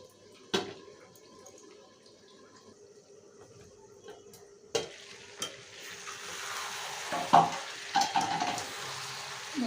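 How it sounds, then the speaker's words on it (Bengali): Tough Parisi chicken meat is slowly sautéed in a covered pan, with a quiet low sizzle broken by sharp clanks of a spatula or lid and scraping stirs. "আমি এভাবে আস্তে আস্তে মাংসটা ভালো করে কষিয়ে নেব"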